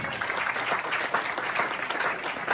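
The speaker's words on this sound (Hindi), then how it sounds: "जोरदार ताली" A church congregation claps loudly and continuously through a Christmas sermon service, a dense, even wash of many hands with no pause.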